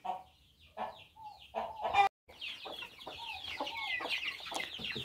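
Hens and chicks clucking close by on a farm in a steady, busy chorus, with a brief sharp squawk and a moment of silence partway through.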